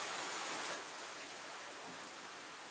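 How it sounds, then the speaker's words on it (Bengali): Steady rain falling at a railway station in the morning, a soft continuous hiss that holds evenly throughout at a quiet level with no one speaking. "এখনো হচ্ছে এদিকে বৃষ্টি।"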